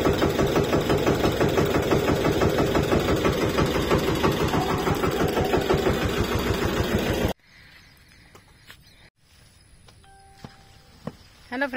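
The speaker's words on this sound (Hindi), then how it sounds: "ट्रैक्टर स्टार्ट किया है।" A tractor engine runs close by with a loud, rapid, chugging diesel idle for several seconds, then cuts to a quieter outdoor scene with faint rustling and clicks.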